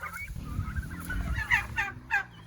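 Several turkeys gobble in bursts over a low, busy barnyard hum, their rattling calls repeating close by.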